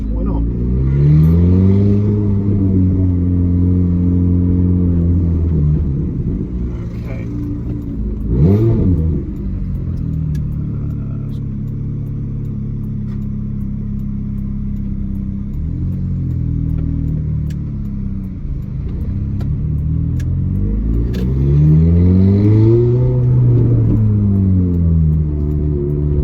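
A Ferrari F430 engine rumbles steadily up close, revving and rising in pitch a couple of times, with people talking over it.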